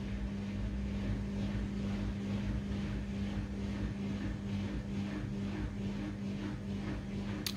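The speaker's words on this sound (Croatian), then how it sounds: "Ona krene, pali pumpu," A Samsung washing machine's drain pump runs during the spin cycle while the drum stays still: a steady, continuous low mechanical hum with a broad whir above it, constant in loudness and heard alone.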